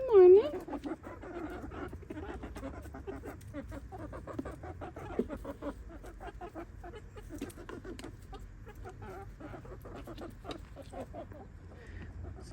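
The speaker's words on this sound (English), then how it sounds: "more concerned about the neighbor's chickens" A neighbor's chickens cluck faintly in the background on a morning outdoors while a dog pants nearby, with a person talking throughout.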